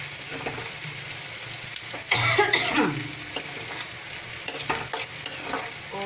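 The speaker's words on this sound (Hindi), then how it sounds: "देखिए प्याज हमारा फ्राई हो रहा है, प्याज फ्राई होना शुरू हो गया है।" Chopped onions sizzle and fry in a pan for a ridge gourd curry while being stirred, a steady crackling hiss close up, with a cough partway through.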